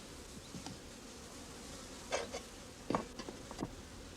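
Honeybee workers buzzing near a hive as they climb back in, a soft steady drone with several louder close buzzes passing by.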